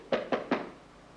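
A wrestler caught in a hammer lock submission taps out: three quick, dull slaps in an even rhythm, close and distinct, followed by quiet.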